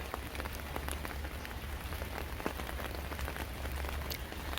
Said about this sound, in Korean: 빗소리도 같이 들으면서 영상 봐주시길 바랍니다